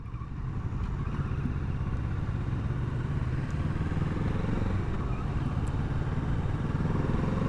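A 2020 BMW F900 XR motorcycle on the move gives a steady, even engine drone with low rumble and road noise, constant throughout and heard alone without talk.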